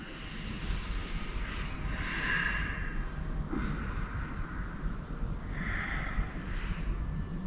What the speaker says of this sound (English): Keep the breathing deep, keep it strong and long.